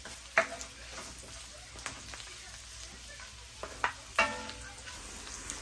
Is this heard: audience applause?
no